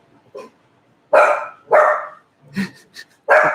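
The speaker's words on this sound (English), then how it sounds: "What are you barking at?" A puppy barks indoors at home near a sofa: a handful of sharp, close barks in separated bursts, the first one short and soft and the rest loud, with quiet gaps between them.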